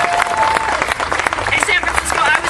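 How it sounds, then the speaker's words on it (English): An audience claps and cheers for the San Francisco SPCA co-president at a public gathering, a dense steady burst of applause with crowd voices mixed in. "Give her a round of applause."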